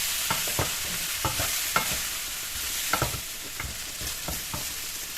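Boiled pork and softened onions are stirred in a frying pan, a spatula scraping in irregular strokes over a steady close sizzle, with no voices.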